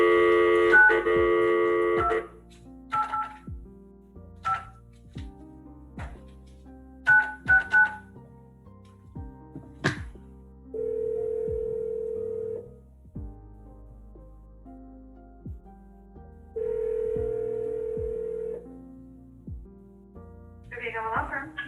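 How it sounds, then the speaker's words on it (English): A desk telephone dials a number with a string of short, clipped keypad tones, followed by two long, steady ringback tones separated by a pause, then a brief burst of line noise. "Let me call Mr. Villacava's old phone number."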